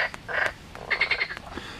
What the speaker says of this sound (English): Okay, frogs have just started.